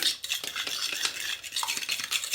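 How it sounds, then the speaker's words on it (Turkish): Yogurt and an egg are whisked together in a bowl as a topping for a spinach rose börek made with ready-made phyllo, giving a steady scraping, clinking stir of utensil against the bowl's side, close and continuous with no voices. "bir yemek kaşığı yoğurt ve bir tane yumurtamı güzelce çırpıyorum"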